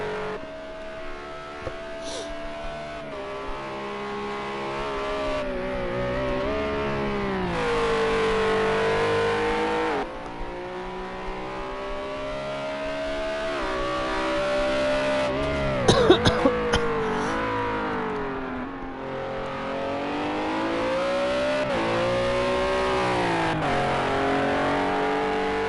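Renault RS01 race cars lap Bathurst in Project Cars 2, a loud close engine whine sweeping up and down through repeated gear changes, with a sharp burst of noise midway and another car passing.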